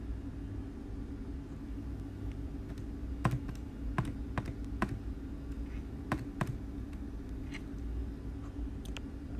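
Keys tapped on a calculator while working a maths problem: several sharp, separate clicks spaced irregularly over a low steady rumble, close by, with no one speaking.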